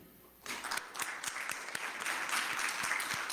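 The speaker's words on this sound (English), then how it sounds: "Please put your hands together for Hina Patel." Applause from an audience at an International Women's Day celebration for an honoree, starting abruptly after a quiet moment. It swells into steady, dense clapping with sharp individual claps standing out.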